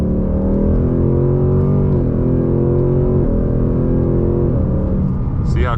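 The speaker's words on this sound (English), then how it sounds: "Let's get on the gas, and then you'll see how quick the paddle shifters are when you're on the gas." Ford Mustang GT engine under hard throttle, revving loud and close with quick paddle-shift gear changes audible as stepped pitch drops in a steady roar.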